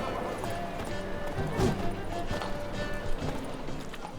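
Roach the horse galloping in The Witcher 3, rhythmic hoof clip-clops at moderate distance over ambient game sound, with a brief louder thump partway through.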